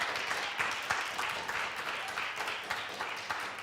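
Audience applause after a theatre group's performance at a Finnish arts event, an even, continuous rustle of many hands clapping at moderate volume with small peaks throughout.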